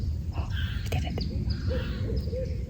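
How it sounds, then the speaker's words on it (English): An owl hooting at a spring in a state park, a few soft hoots at moderate distance over steady low background rumble and water-side ambience. "Is he gonna hoot?"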